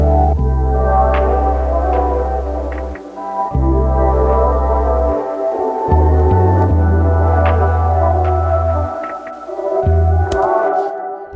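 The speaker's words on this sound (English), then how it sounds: "I took that vocal and I reversed it, and this is what it sounded like then." A reversed vocal sample plays alone: smeared, swelling tones with sustained low notes that cut off abruptly, giving an eerie backward-sung texture.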